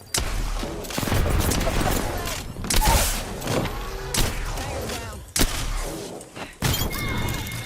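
Apex Legends firefight with bursts of gunfire and sharp shattering cracks of an enemy shield breaking, several loud impacts in quick succession under continuous game noise and voice lines.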